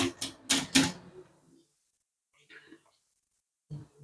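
A chocolate mould filled with melted chocolate is tapped on a surface, making three sharp, close knocks in quick succession, followed by a few quieter scrapes and soft sounds as a person speaks softly.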